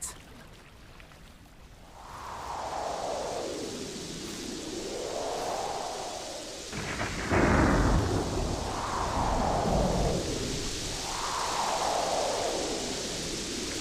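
Stormy weather at sea with rolling thunder and a roar of wind that swells and sinks in slow surges, loud and continuous, and a heavier rumbling crash near the middle, with no voices.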